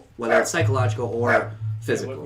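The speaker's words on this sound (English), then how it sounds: "Sorry about the dog" A dog barks several times close by, loud, mixed in with ongoing conversation during a podcast recording.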